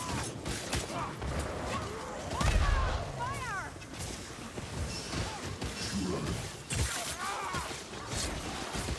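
Gunfire volleys in the video game Cataclysm erupt as a dense, chaotic battle din of repeated shots and crashing impacts, with game voices calling out over the fighting.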